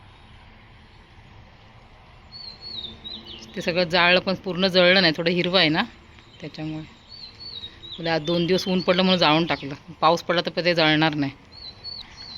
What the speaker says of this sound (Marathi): पक्षी बघा किलबिल किलबिल करत आहेत मस्त वातावरण झालं बघा